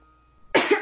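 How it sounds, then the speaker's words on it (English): A girl coughs once, a sharp close burst with a second push, after a moment of near silence. "And then she coughed."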